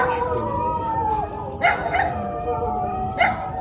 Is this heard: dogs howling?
yes